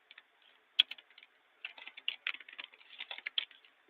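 Quick typing on a computer keyboard, close and clear, a sharp key strike early, then a brief pause before a dense run of rapid clicks.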